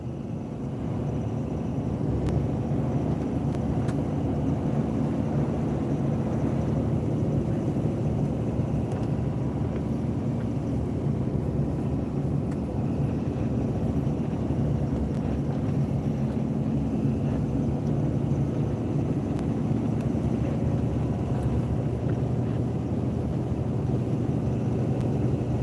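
A snow-plow truck climbs a steep snowy grade during an eight-inch storm, its engine droning loud and steady throughout with a broad rumble and wind-like roar, no talk over it.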